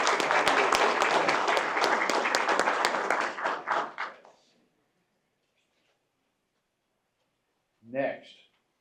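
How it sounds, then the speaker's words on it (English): Audience applause at a city council meeting, dense clapping for about four seconds that tapers off into silence, with a brief voice near the end. "Make them a round of applause."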